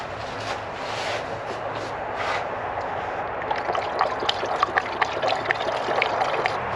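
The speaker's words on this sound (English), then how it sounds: "Last thing we do is add the coolant" Coolant pours through a funnel into the reservoir of a 2014-2018 Chevrolet Silverado or GMC Sierra with a 5.3L engine, a steady close trickle and splash that brightens and grows slightly busier as the pour goes on.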